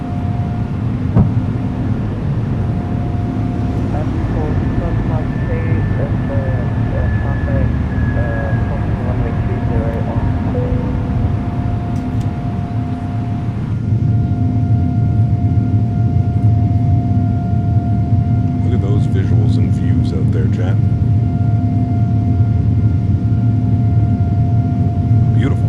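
Airbus A330neo on its takeoff roll and climb-out in Microsoft Flight Simulator, a steady loud roar of jet engines with rumbling wheel noise, a tonal whine rising partway through, under sparse cockpit callouts.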